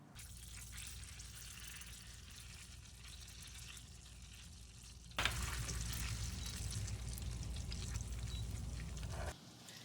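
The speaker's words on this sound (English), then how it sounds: "we've minced our garlic and now we're gonna add that to our butter" Minced garlic frying in melted butter makes a soft, even sizzle that jumps louder about halfway through and holds steady, then drops off near the end; no one speaks.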